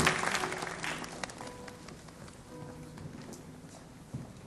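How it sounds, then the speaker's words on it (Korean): A congregation at a church youth worship service applauds, the clapping loudest at the start and fading within a couple of seconds into quiet room noise with a faint knock near the end. "다시 한번 큰 박수 부탁드리겠습니다."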